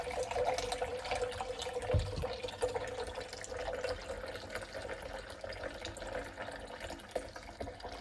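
Water runs steadily from a tap into a blender jar, a soft splashing rush with a faint knock partway through.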